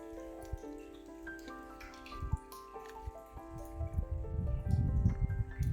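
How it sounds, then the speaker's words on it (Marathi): Spring water trickles and drips into a large farm well, with quiet, irregular close drips that turn into louder splashing gurgles near the end, under a faint tonal background. "विहिरीमध्ये बघा कसे झरे लागलेले आहेत. तिथून पाणी पडत आहे."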